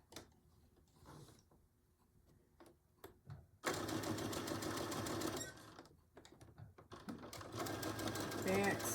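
A sewing machine back stitches a Betty Boop pillow cover in loud, close mechanical whirring bursts, following a quiet stretch with soft handling sounds and some talk.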